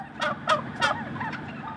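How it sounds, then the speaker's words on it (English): Heirloom bronze turkeys, an old heavy strain, gobble on a farm in three loud bursts near the start, followed by quieter chattering calls over a steady murmur of the flock. "heirloom bronze, which are a very old strain of turkey"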